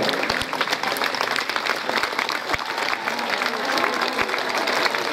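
A large gathering applauds its group coordinators at a church address in Univ: thick, sustained clapping with a few sharp individual claps standing out near the front.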